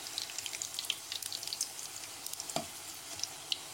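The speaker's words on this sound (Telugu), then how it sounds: "ఇప్పుడు వీటిని 2 సైడ్స్ మంచిగా కాల్చేసుకోవాలి," Egg batter fritters fry in a pan of oil with a steady, fine crackling sizzle and scattered sharper pops, fairly quiet and close, with no voices.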